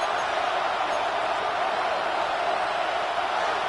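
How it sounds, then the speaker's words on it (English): A loud, steady stadium crowd in a Madden football video game roars and cheers continuously before a third down, a dense wall of voices with no single speaker standing out. "this crowd getting even louder before 3rd and 10"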